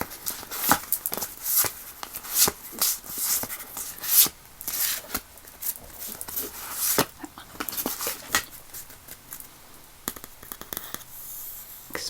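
Rapid papery riffles and soft slaps repeat in irregular bursts as tarot cards are shuffled close by, with brief pauses between runs.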